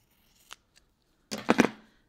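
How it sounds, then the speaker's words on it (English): Fabric scissors snip through material while making a bag: a couple of faint early clicks, then a loud close burst of crisp cutting chops. No voices. "those are my fabric scissors"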